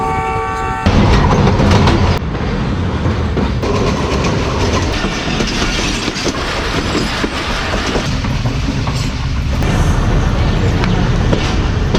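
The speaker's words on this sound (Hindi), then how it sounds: "बदर एक्सप्रेस रवाना हो रही है।" The Badar Express pulls out behind its locomotive, with a loud horn blast at the start, then a steady rumble and wheel clatter that stays close and strong throughout.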